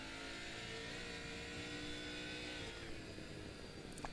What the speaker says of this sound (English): He's revving it all the way out to the rev range